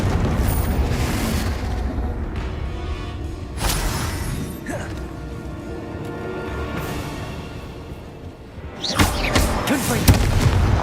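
Confringo fire-spell blasts in the Hogwarts Legacy video game: several loud booming explosions with crackling bursts and debris, strongest near the start and at the end, over continuous rumbling game noise.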